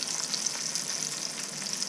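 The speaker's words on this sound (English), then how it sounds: "There's the arca flounder, frying up a little bit." Flounder sizzling in a hot pan, a close, crackling fry with steady popping and no voices.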